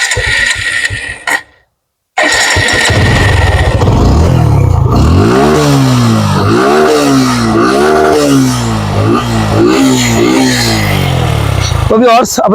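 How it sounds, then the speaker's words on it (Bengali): A Suzuki Gixxer Monotone 155 cc motorcycle engine cuts out, then starts up and revs repeatedly in rising and falling bursts, loud and close, before settling into a rough run. "আমি এখন বাইকটা রিস্টার্ট করে সাউন্ড কন্ডিশন দেখানোর চেষ্টা করবো"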